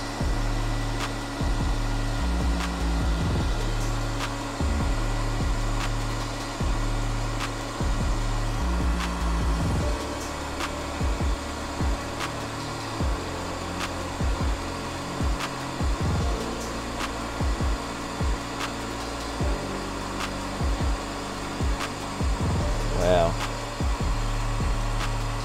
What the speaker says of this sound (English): Turn the heat gun up slowly.